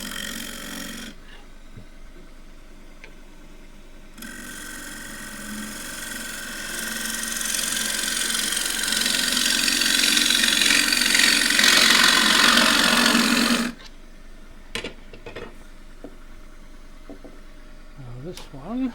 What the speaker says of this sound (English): Bowl gouge.